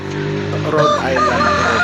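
A Rhode Island Red rooster crows loudly and close by, a drawn-out call with other Rhode Island Red chickens clucking faintly around it.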